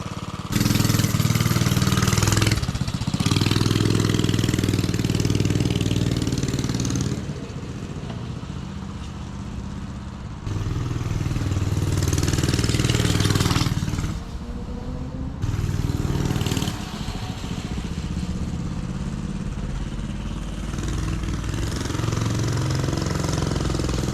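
A Briggs engine-powered vehicle runs steadily on a ride, its loud, close motor droning continuously with rough mechanical texture and several dips and surges in level.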